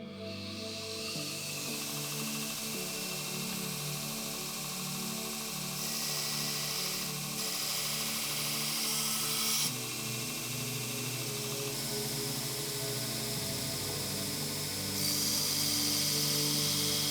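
A belt grinder runs steadily for a long stretch as knife blade bevels are ground at a consistent angle with a jig, moving through grits from 60 to 400. The hum is sustained, with brief shifts as contact with the blade changes.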